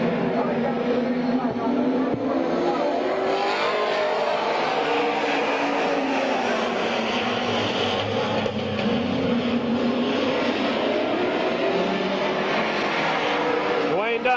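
Race cars roar around the Midvale Speedway oval at night in a dense, continuous engine drone with rising and falling passes, under a commentator's voice.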